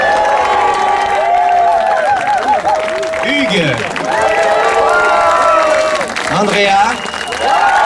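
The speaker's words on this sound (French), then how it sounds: "Je voudrais que vous applaudissiez très fort nos amis qui sont venus monter sur scène." An outdoor rally crowd in Toulon claps and cheers loudly throughout, with shouts and whistles over steady applause while a voice speaks into a microphone over the noise.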